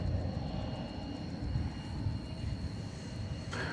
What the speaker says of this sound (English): I think that's the 777, which is destined for London.